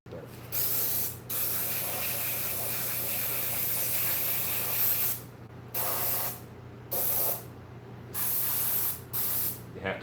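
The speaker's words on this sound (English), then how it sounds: "this is a different kind of airbrush. This is a Black Harbor Freight airbrush" A black Harbor Freight airbrush sprays gloss coat onto a werewolf mask in a run of hissy bursts, some long and some short, separated by brief silences, close and fairly loud.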